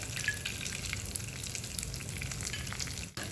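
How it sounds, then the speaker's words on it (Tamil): Cashew nuts fry in ghee for a South Indian pongal tempering, producing a dense, continuous crackling sizzle close by with a brief dip near the end. "இப்போ நம்ம இதை கொஞ்சம் நெய்யில் வறுத்து எடுத்துக்கலாங்க"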